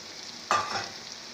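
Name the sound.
eggplant being stir-fried in masala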